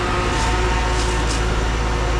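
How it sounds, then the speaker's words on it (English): Concrete being pushed through a heavy pump hose on a job site gives a steady, loud low rumble and continuous churning hiss with no break, alone without talk. "You can hear it going through the hose right now."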